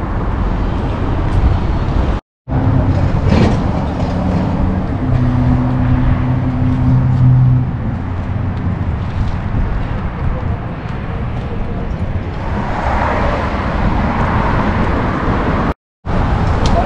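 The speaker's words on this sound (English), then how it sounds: "Whose slow truck is this?" A slow truck rolling along a road, its engine a loud, steady low rumble close by with traffic noise around it and a voice talking over it.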